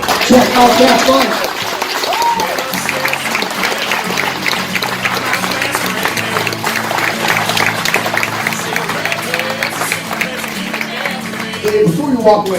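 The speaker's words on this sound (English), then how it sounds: "Everybody, give a round of applause for this bike coming through right now." A crowd applauds and claps steadily for a veteran's custom motorcycle at an outdoor giveaway event, with someone speaking over the clapping.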